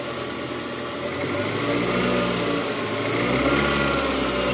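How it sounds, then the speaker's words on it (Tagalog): Car engine running during a charging load test, a steady idle whose hum rises and settles as the revs are raised, heard close and continuous without speech. "Please increase RPM to 500."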